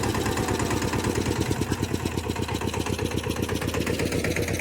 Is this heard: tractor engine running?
yes